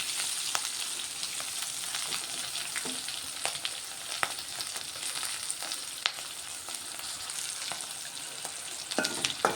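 Green chillies with onions and cumin frying in a pan, a continuous close hiss of sizzling oil broken by occasional sharp crackles and light stirring scrapes, with no voices.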